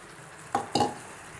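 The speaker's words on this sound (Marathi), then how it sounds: "मुगाची डाळ आपण चांगली परतून घेतलेली आहे" Soaked moong dal being sautéed in a pan: two quick, close scraping strokes of the spoon over a faint background sizzle, with no voice.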